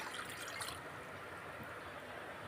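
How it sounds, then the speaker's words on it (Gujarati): Water poured into a pot on a stove to boil bitter gourd, a steady close splashing stream that starts brighter and settles into a continuous even trickle. "તો થોડુંક નાખ્યું પાણી।"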